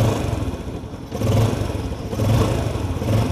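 A Yamaha Sirius motorcycle engine idles up close, giving a steady low, chugging rumble with a brief dip before it settles back to a constant putter.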